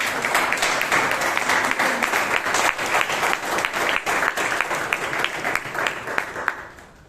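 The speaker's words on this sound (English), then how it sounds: "Can we give a round of applause to" Audience at a Toastmasters club meeting in Bangalore applauds a speaker, a dense, steady round of clapping from a room full of people that carries on for several seconds and then fades out at the end.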